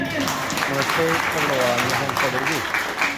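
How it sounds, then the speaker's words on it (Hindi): Seminar audience at a Microd Digital event in Akhnoor, Jammu, applauding while a voice speaks loudly over the clapping throughout. "तो फिर ताली किसने बजानी है"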